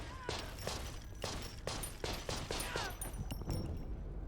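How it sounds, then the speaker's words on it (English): Machine gun fire in the video game Conscript: several sharp bursts of gunshots in quick succession, fairly faint and set against a low mechanical background. "Machine gun."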